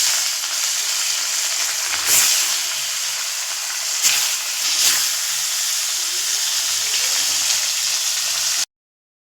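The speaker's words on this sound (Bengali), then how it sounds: "মাছ তুলে দিচ্ছি।" Mrigel fish rubbed with salt and turmeric hits hot oil, producing a continuous bright hiss with a few louder crackling bursts, then cutting off abruptly at the end.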